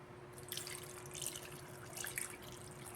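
Water poured into a pot for cooking paksiw, a steady faint splashing and trickling with a few brighter spatters, alone without talk.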